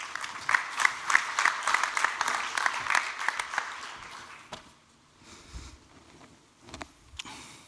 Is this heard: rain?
no